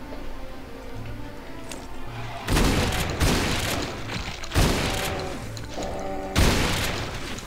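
Shotgun blasts in the Doom Sigil episode, four heavy booming shots spaced about two seconds apart, loud and close over a droning game soundtrack.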